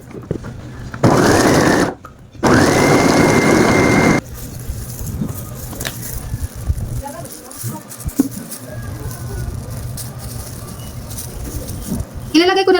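An electric meat grinder or food processor grinds lumpia Shanghai filling with carrots and Baguio beans, in two loud steady motor bursts of a second or two each, followed by quieter kitchen clatter.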